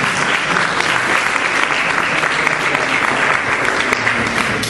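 Sustained, dense applause from a party audience at an athletics club celebration, steady and fairly loud throughout with no pauses.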